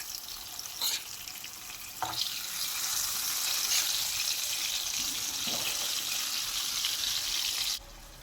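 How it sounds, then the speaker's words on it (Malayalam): Prawns are dropped one by one into two tablespoons of hot coconut oil for a masala prawn fry, giving a steady, close sizzle with small pops and clicks that cuts off near the end. "അതിലേക്ക് രണ്ട് ടേബിൾ സ്പൂൺ വെളിച്ചെണ്ണ ഒഴിച്ചു കൊടുക്കാം ഇതിലേക്ക് ഓരോ ചെമ്മീനും നമുക്ക് ഇട്ട് കൊടുക്കാം"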